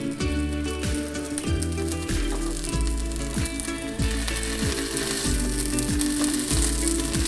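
Potato tikki frying in a pan, browned and pushed toward the edges, giving a steady dense sizzle like light rain throughout, close and continuous, with music playing underneath.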